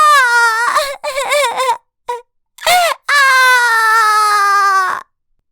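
A young girl crying loudly after a fall, with repeated wailing sobs in short bursts, then one long sustained wail, close and alone with no speech.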